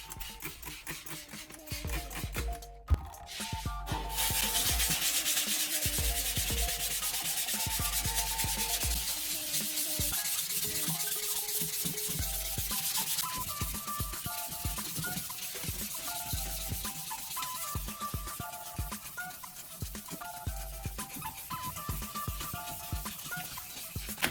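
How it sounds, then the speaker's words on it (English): Steady, rhythmic scraping of 800 grit sandpaper rubbed back and forth across an oxidized plastic car headlight lens, close and continuous, with a short pause near the start. "take your 800 grit sandpaper and start sanding lightly"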